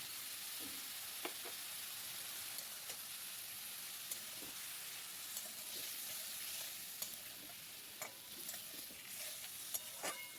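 Masala with ginger paste, Kashmiri chilli powder and turmeric sizzles steadily in oil, a continuous hiss broken by light taps and scrapes of a stirring spoon, close and even throughout.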